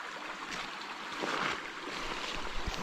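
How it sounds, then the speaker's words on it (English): Continuous rushing of a flowing creek on a rainy day, steady and close, with no voices. "Hear the creek, isn't that pretty?"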